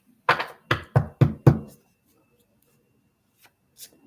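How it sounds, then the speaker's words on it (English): Tarot cards shuffled in a run of five crisp riffling bursts in quick succession, close and fairly loud, followed by near silence with a couple of faint soft taps at the end. "Haven't shuffled the cards in a long time."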